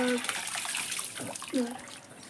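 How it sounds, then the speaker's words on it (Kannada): Water gushes steadily from a pipe at a home, a constant hissing rush that runs under a person talking close by. "ಈಗ ನೀರು ಬಂದು ನೋಡ್ರಿ ನಮ್ಮ ಮಮ್ಮಿಯಾರೆಲ್ಲ ಇಲ್ಲಿ ಪೈಪ್ ಹಚ್ಚಕುಂತ"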